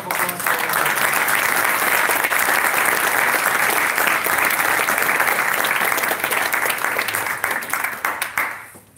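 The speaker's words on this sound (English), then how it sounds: "A big round of applause." Loud, sustained applause from a large audience at the JuliaCon 2018 programming conference, a dense wash of clapping that holds steady for several seconds before tapering off at the end.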